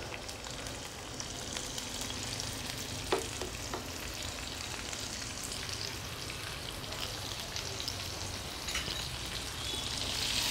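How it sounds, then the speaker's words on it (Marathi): Onions frying in hot oil in a pan for Ahmednagar misal pav, a steady, even sizzle like light rain that holds throughout, fairly quiet and uninterrupted by speech. "आता हे कांदे ना आपण याच्यामध्ये टाकून देते तेलामध्ये"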